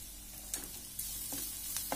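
Spices sauté in a pan with pepper powder, sambar powder and salt, a soft continuous sizzle with a few quick utensil scrapes and taps at intervals.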